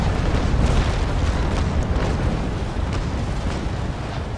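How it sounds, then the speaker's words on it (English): A ship's broadside cannon fire rolls out in Naval Action as a loud, continuous booming rumble that slowly fades, heard on its own. "Big broadside here."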